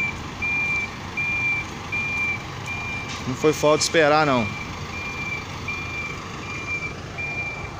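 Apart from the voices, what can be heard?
tow truck reversing beeps while towing a parked car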